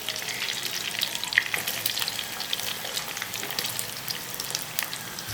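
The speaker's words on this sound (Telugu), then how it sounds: "పచ్చిమిరపకాయలు అయితే వేగాయి, ఉల్లిపాయలు వేస్తున్నాను." Sliced onions are dropped into a pan where green chillies are already frying, producing a steady crackling sizzle with faint spattering pops, close and unbroken.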